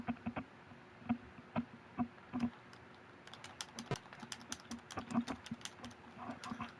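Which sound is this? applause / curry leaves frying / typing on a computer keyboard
typing on a computer keyboard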